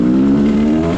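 Kawasaki KDX enduro dirt bike with a rebuilt two-stroke motor, revving loud and close in a steady, buzzing drone for about a second, with no talk.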